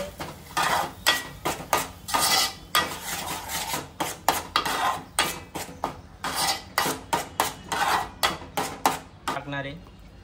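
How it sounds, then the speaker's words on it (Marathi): Ground masala paste being sautéed in a pan for a Malvani fish meal: a spoon scrapes and knocks against the metal in a steady, repeated stirring rhythm, close and fairly loud. "आता परतून घेते."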